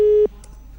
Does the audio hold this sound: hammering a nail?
no